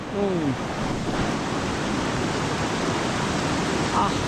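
Loud, steady rushing floodwater roars continuously during heavy rain, a broad wash of turbulent, swollen flow too high to cross, with faint voices barely noticeable beneath it.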